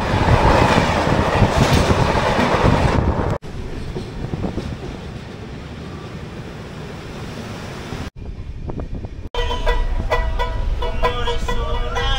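Kanchankanya Express passenger train running on the rails at night in India, a loud steady rumble of wheels with rhythmic clatter, cut into several segments with a brief quieter gap.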